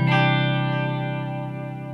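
An electric guitar chord rings out through an amp with light reverb and a subtle tape-echo delay pedal, a shimmering sustained tone that slowly fades with faint repeating echoes, close and alone.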